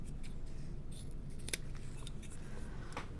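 Scissors snip through a zipper for a bag in a quiet sewing room, a few sparse, crisp cuts over a low background hum.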